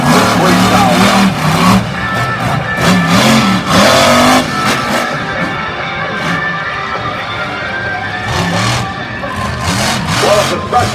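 Stone Crusher monster truck in a freestyle run at a Charlotte arena, engine roaring loud and close with repeated sharp revving surges and throttle swells, an announcer's voice talking over it.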